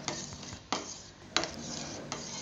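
Semolina being stirred into boiling milk and water in a pan for mango kesari, a few sharp scrapes of the spoon against the metal standing out over a steady bubbling hiss, with no voices.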